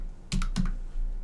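Fingers tap a computer keyboard in two short bursts of a few quick clicks each, close and fairly soft over a faint steady hum, no talking.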